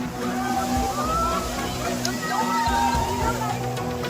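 Tiger Falls in Chakrata, Dehradun, pours with a steady rushing slosh while tourists splash in the cold water; a voice speaks over the water with crowd chatter in the background.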